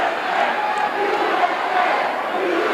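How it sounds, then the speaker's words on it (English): A wrestling arena crowd at a classic Dusty Rhodes versus Bruiser Brody match roars and chants together, a dense, steady wall of massed voices that holds at an even level throughout. "oh, now we've got a cheer going on, and the cheer is USA."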